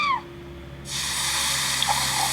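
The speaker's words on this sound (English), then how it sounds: "More bacon sizzle and a champagne pour and a glass cup fill" Champagne poured into a glass cup for a product commercial starts after a brief lull as a steady, close, bright fizzing pour that runs on evenly to the end.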